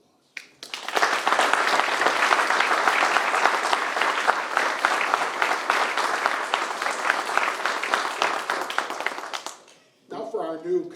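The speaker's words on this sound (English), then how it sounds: "they deserve a round of applause." Sustained applause from a crowd at a mayoral inauguration ceremony, dense clapping swelling in at once, holding steady for several seconds, then fading out before a voice starts talking.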